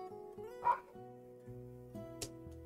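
A dog gives short yips and barks behind a steady tonal background hum, a few brief moderately loud bursts spread out over a few seconds.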